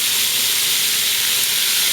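Onions and carrots sizzle in a Dutch oven, where the meat for braised short ribs was just seared, making a loud, even hiss that stays steady throughout.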